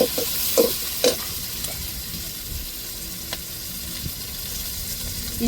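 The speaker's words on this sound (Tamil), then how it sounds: "தக்காளி மிளகாயை வதக்கிக்கிடுவோம்." Tomatoes and chillies sauté with curry leaves in a hot pan, a steady soft sizzle broken by a few clinking stirs of a spoon early on, close and with no voices.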